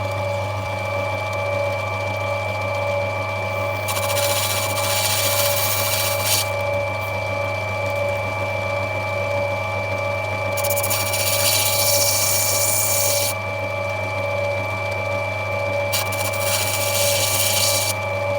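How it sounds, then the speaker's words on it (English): Opal pressed against the edge of a spinning carving wheel, a steady grinding whir with a constant motor hum, rising into brighter gritty bursts in several stretches as the stone touches the wheel. "So just touch it on the edge of the wheel here."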